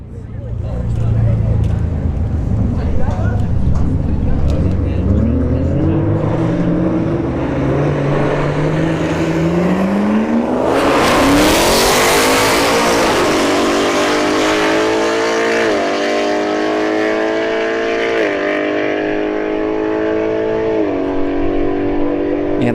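A BMW and an S550 Ford Mustang drag racing at a street-heat event, engines roaring and revving up through the gears past the listener, loud and continuous, with a commentator's voice over it.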